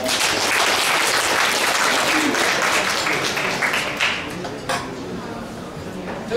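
Banquet guests at a hotel send-off dinner break into loud, dense applause that fills the room, then thins out near the end amid clinking dishes and murmuring voices.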